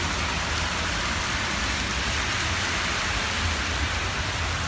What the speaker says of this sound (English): the rain's just not letting up at all.